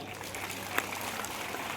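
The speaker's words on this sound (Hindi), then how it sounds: "जोरदार तालियां बजाएं" Audience applause at an army cantonment road-safety event in Jalandhar, a steady patter of clapping from a crowd of students and soldiers, moderately distant and fairly soft throughout.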